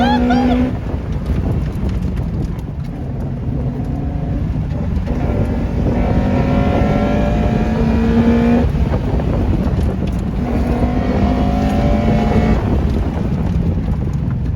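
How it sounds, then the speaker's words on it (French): A Lotus Elise 111R engine roars and rises through the gears, its intake howling close behind the occupants amid wind buffeting, with occasional voices underneath. "C'est directement derrière nos oreilles, le moteur il hurle."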